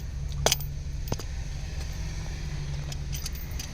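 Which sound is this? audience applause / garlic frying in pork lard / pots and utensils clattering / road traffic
road traffic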